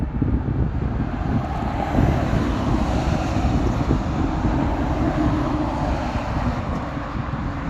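Steady outdoor wind at a holding camp, a continuous low rumbling roar with buffeting on the microphone, loud and unbroken throughout with no clear talk.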